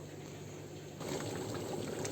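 Cooked menemen, a Turkish tomato and pepper dish, pours steadily into glass jars for canning, a continuous wet stream that grows fuller and louder partway through, with no talk.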